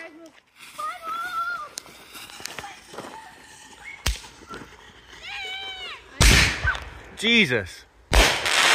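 Homemade firework mortars launch and explode in three sharp, loud blasts spaced a couple of seconds apart, with excited voices talking and exclaiming between them.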